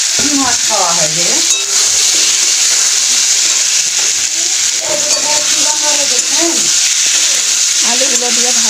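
Potatoes fry in a pan with a steady, close sizzle that runs throughout, while voices talk over it at intervals in a home kitchen.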